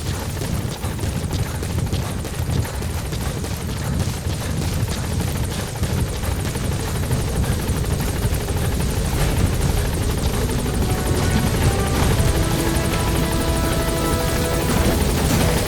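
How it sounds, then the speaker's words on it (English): A support helicopter arriving in a video game, its rotor beating in a loud, constant throb with engine whine layered over it, steady and close for the full duration. "Support helicopter has arrived."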